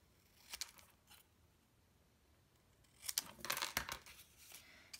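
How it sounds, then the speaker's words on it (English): Snips cutting paper at an angle for a stamping and alcohol-blend card project: a few faint crisp snips early, then a quick cluster of sharper cuts near the end, close and quiet. "I'm going to take my snips and I'm going to cut this"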